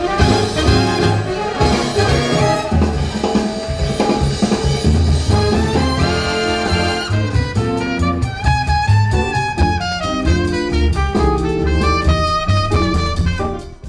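Full-range music test playback through an Android car head unit with a 9 or 10 inch screen, steady loud beat with dense bass and bright highs running throughout, no talk.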